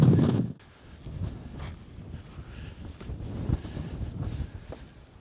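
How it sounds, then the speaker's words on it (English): Wind buffeting a microphone on a Peak District hillside along a walking trail, a low rumbling gust that starts loud then settles into a steady, gusty roar with no talking. "I'll turn back out of the wind."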